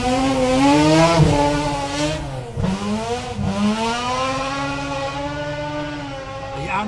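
A rotary-engined RX rally car with an MX-5 gearbox at a rally sprint, its buzzing high-revving engine rising and falling through gear changes, loud and close throughout.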